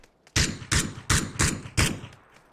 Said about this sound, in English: left is shooting us.